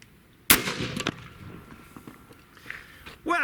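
A ZEUS .72 caliber air rifle fires once into a stack of 2x8 boards, giving one sharp, loud blast with a short ringing tail and a second crack moments later, followed by quieter handling noise.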